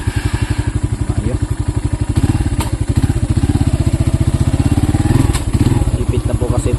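A motorcycle engine runs loud and close in a steady, rapid, even thumping idle that holds for the whole stretch, with a few brief clanks and rattles on top.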